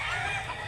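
A gamefowl rooster of the Duke Hulsey Grey and Mclean line gives a brief, close, raspy cluck-like call at a farm, low in level and lasting under a second.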